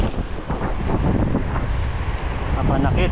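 Ocean waves churn and wash nearby amid heavy wind buffeting the microphone, a rough continuous roar with faint voices underneath.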